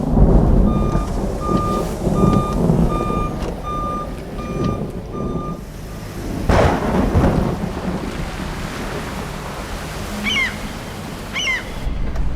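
Steady rain hiss with a heavy rumble of thunder midway, while a vehicle's reversing alarm beeps repeatedly at first and brief high chirps appear near the end.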